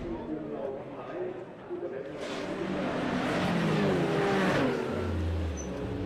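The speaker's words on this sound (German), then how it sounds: "Deren Audi R8 ist gerade mit Problemen in die Box gekommen" An Audi R8 race car with a fault pulls into the pit box during a 24-hour race, its engine a steady close drone that swells louder partway through, with voices talking over it.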